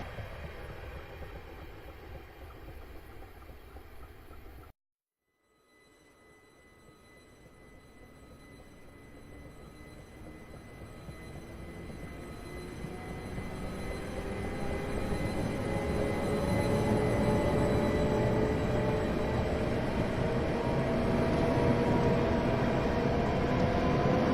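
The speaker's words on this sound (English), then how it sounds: "So we're now just departing Meopham here" Class 375 electric multiple unit departing Meopham station in Train Simulator 2018, a steady rising motor whine and rail rumble that builds in loudness as it accelerates, after a brief silent cut.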